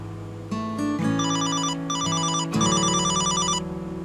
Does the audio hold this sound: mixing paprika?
no